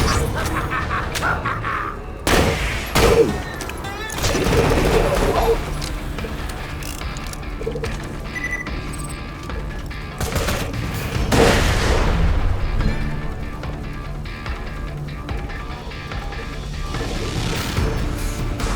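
Gunfire with heavy recoil rings out as several loud, sharp booming shots spaced irregularly, each with a short echoing tail over background rumble.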